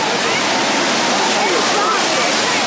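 Falling water roars in a dense, constant rush, close and loud, with a voice faintly audible beneath it, at a wave pool at Universal's Volcano Bay water park.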